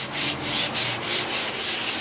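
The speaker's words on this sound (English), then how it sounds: "so we'll just keep sanding" Rhythmic back-and-forth sanding on an engine project, about eight even strokes with a hissing rasp, close and loud, no voices.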